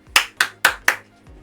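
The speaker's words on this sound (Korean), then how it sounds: "박수." An avatar clapping in a metaverse military game: four crisp, evenly spaced claps in quick succession, followed by a fainter fifth tap, close and clean with no talk.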